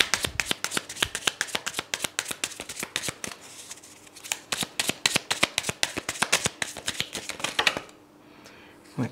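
Tarot cards shuffled by hand in a long run of crisp, rapid riffling clicks, close and steady for about eight seconds before stopping into near silence with one last tap.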